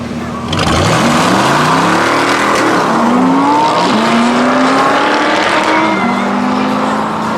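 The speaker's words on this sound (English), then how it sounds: "the Audi seems to be much quicker through the gears in the first half of the track this time" An Audi drag car launches and pulls through the gears down a no-prep quarter-mile strip at Manston Raceway, its engine note rising with each shift and dropping briefly between them, loud and sustained throughout.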